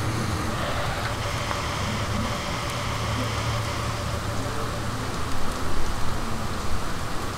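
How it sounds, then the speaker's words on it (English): Steady rain falls in the F-Zero video game, a constant soft hiss of drops on a surface with a low hum beneath, growing a little louder near the end. "It's raining outside."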